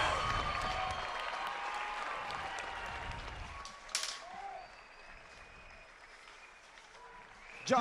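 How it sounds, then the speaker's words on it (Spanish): Crowd applause for two female boxers after their bout, steady and moderately loud for about four seconds, then fading under arena noise with a brief sharp burst near the end. "Primero un aplauso para estas dos guerreras."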